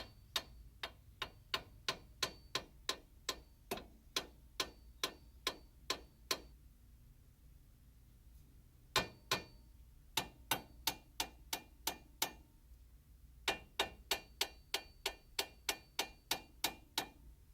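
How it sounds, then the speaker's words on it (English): A hammer taps a Nissan Titan steering knuckle to separate the ball joint, sounding as steady sharp metallic strikes in quick runs with a pause in the middle, close and clear with no talk. "Using a hammer or a small sledgehammer, give the knuckle some taps to get movement and separation."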